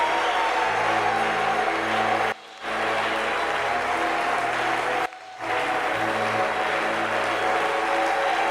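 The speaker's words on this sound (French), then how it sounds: "Acclame Jésus très fort." A church congregation claps loudly and steadily in worship, a dense, continuous roar of applause over a low musical drone, cut by two brief drops near the middle.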